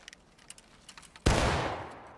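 A massed rifle volley erupts from a line of soldiers in the American Civil War video game War of Rights, one loud, sharp crash followed by a rolling, fading echo after a short stretch of faint background noise.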